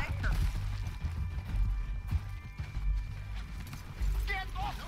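In Red Dead Redemption 2, a horse gallops with a steady run of heavy hoofbeats under game sounds, and someone talks over it with speech-like noise through much of it.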